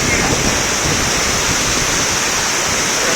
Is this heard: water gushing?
yes